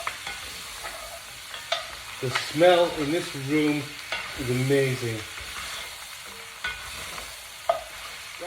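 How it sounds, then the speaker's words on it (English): Mutton for Jamaican curry fries in oil with a steady sizzle while a utensil scrapes and turns the pieces in the pan, under a person speaking near by. "make sure you turn the meat and just keep turning it so you see all of it's getting a bit of oil"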